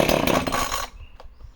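A Husqvarna 455 chainsaw on choke gives a loud, close, rough burst of engine noise that cuts off abruptly, followed by faint clicks in near quiet.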